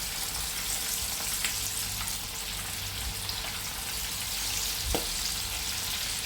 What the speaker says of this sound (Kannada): ಈಗ ಎಣ್ಣೆ ಕೂಡ ಬಿಸಿಯಾಗಿದೆ, ಒಂದೊಂದನ್ನು ಫ್ರೈ ಮಾಡ್ತಾ ಹೋಗ್ತೇನೆ